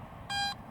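Metal detector in pinpoint mode giving a single short, bright electronic beep, clear and close against a quiet outdoor background.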